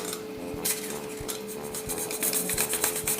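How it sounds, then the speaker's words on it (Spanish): A utility knife carves material for a nativity-scene portal, making close, repeated rasping scrapes. The strokes come in a quick, uneven rhythm with faint scraping between them. "vamos a tomar el cúter y vamos a comenzar a tallar"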